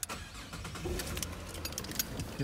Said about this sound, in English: I'll just turn the car on.